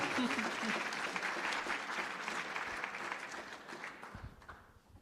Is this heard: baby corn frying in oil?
no